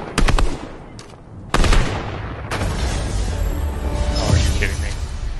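Rapid gunshots crack out in a video game, sharp bursts at the start and again mid-clip, then a denser stretch of firing and rumbling effects, with a voice talking over part of it.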